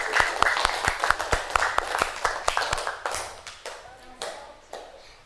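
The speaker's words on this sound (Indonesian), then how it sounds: "Kita sama-sama kasih aplaus pada teman-temannya." Students applaud in a classroom with a quick, uneven patter of hand claps that slowly thins and fades over a few seconds.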